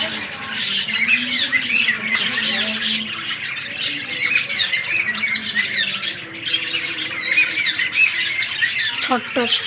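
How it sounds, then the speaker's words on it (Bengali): Many birds of various kinds squawking and chattering together in a park, loud and close, a dense continuous chorus with people talking underneath. "চলো পাখিগুলা দেখাই তোমাদের, কত রকমের পাখি আছে"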